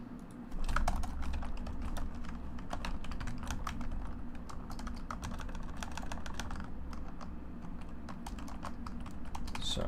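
Rapid clicking of computer keyboard keys runs steadily throughout, close and fairly loud over a low room hum, with no voices.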